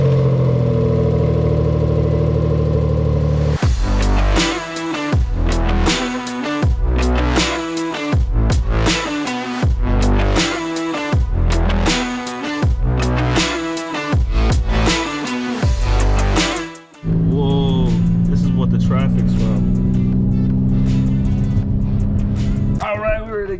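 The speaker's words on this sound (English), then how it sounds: "Let's do a little quick cold start." Cold start of a 2004 Infiniti G35 after an exhaust leak repair: a loud crank and catch, then a run of sharp revs and pulses before settling into a steady, rumbling idle close by.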